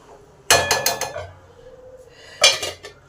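A lid clatters onto a metal pot of cooking basanti pulao, two sharp clanking bursts with rattling metallic ringing, close and clear in a quiet kitchen.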